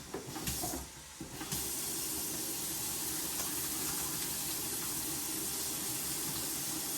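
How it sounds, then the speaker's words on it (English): A kitchen tap runs in a steady loud hiss of water for hand washing after handling raw meat, briefly faltering at the start before pouring continuously, with no talking. "I'm going to go ahead and wash my hands"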